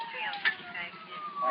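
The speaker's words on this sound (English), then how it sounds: "Joe, tell them to shut off the sirens." A faint wailing siren holds a steady, slowly shifting tone in the distance, heard briefly under muffled background activity.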